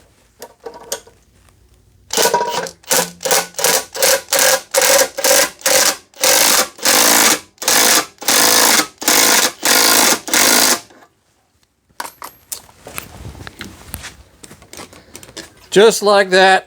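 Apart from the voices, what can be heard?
jack lifting a Harley Davidson cruiser motorcycle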